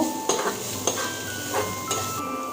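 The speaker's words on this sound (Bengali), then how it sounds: "এখানে আছে ধনে গুঁড়ো এটা দিয়ে দিচ্ছি এবার সুন্দর মতো নেড়ে নেব" Coriander powder stirred into potatoes frying in a pan for aloo chop, with a low steady sizzle broken by four or five scraping spoon strokes at an even pace, close and unaccompanied.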